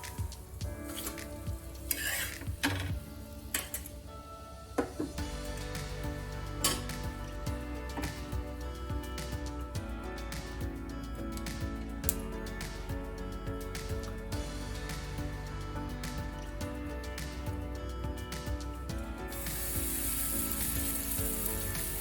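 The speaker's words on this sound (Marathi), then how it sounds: "तर आपल्याला हे सगळे पराठे भाजून घ्यायचे" Square moong dal bread parathas roasting on a hot griddle, with a steady close sizzle, occasional spatula scrapes and light clinks of utensils, no talking.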